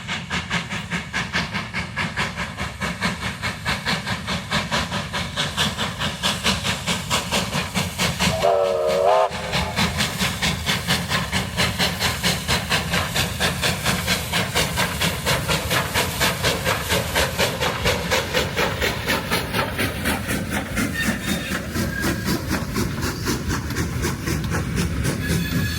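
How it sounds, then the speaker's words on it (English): A 1954 consolidation steam locomotive, J549, arrives at the Maldon terminus on a heritage goldfields railway, with loud rhythmic chuffing and rail clatter throughout and a brief whistle blast partway through. "this shot of the Victorian Goldfields Railway as 1954 consolidation J549 arrives into the terminus of Malden"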